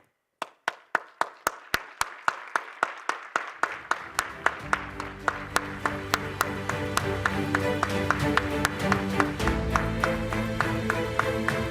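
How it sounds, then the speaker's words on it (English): Audience applause for Nobel Peace laureates at a world summit: sparse claps at first swell quickly into steady, full clapping from a large crowd that continues throughout. "give them a minute of applause."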